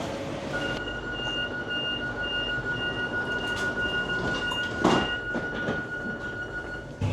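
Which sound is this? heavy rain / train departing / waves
train departing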